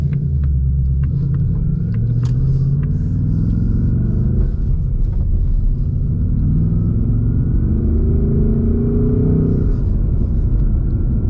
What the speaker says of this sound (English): I'm gonna leave the exhaust in the loud mode because that's the mode I care about